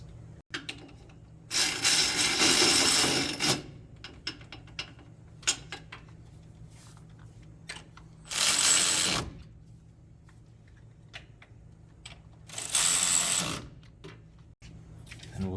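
Wheel hub bolts on a Ford F-150 front hub assembly being snugged in a crisscross pattern with a ratchet, three loud bursts of ratcheting separated by quieter pauses with a low steady hum underneath.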